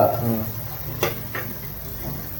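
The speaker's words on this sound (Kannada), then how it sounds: "ಈರುಳ್ಳಿನ ಹಾಕೊಂಡು, ಈರುಳ್ಳಿ ಸ್ವಲ್ಪ ಬ್ರೌನ್ ಬಣ್ಣ, ಕಂದು ಬಣ್ಣ ತಿರ್ಗೋ ಮಟ್ಟಿಗೆ ಅದನ್ನು ಬೇಯಿಸ್ಕೊಳ್ಳೋಣ." Chopped onions fry with green chillies in a pan while cooking tomato bath, a steady close sizzle running throughout, broken by a couple of sharp crackles or stirring scrapes around the middle, with no talking.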